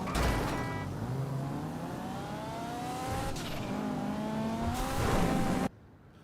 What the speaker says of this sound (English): I'm just going to drive around here for a minute just to make sure gameplay works